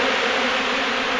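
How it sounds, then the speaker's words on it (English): Dense swarm of honey bees buzzing loudly around a large hive being removed from a property in Wellington, Florida, a continuous close drone with no voices. "Do you see all the bees?"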